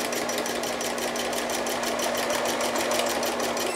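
A sewing machine runs steadily while top stitching an apron, a fast even whirring chatter of needle strokes, close and uninterrupted, with no talk.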